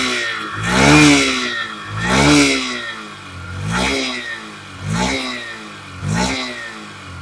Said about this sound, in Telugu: రిఫైన్డ్ ఇంజిన్ అయితే ఉందండి దీనికి, చాలా బాగా నచ్చింది.